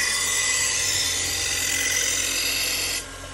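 A Shun kitchen knife is ground on a worn 200-grit sanding belt, making a loud, continuous abrasive hiss that drops sharply in level near the end.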